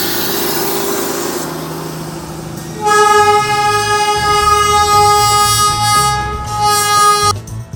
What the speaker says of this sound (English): As another train passes